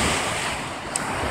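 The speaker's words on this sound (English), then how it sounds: "enjoy the sound of the waves" Ocean surf washes steadily onto the beach at Vero Beach, Florida, a continuous broadband roar with wind buffeting the microphone, fairly loud and unbroken, with no one speaking.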